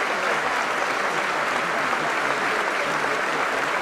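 Members of the Portuguese parliament applaud at the solemn swearing-in session of President Marcelo Rebelo de Sousa, a dense, continuous wash of hand clapping from a large chamber, steady and even throughout with no voices rising above it.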